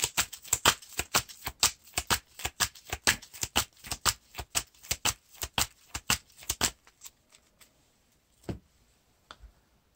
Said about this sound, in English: So we're going to be revealing 1 card this round.